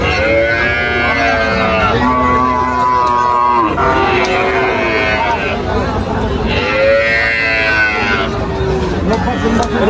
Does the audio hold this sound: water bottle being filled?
no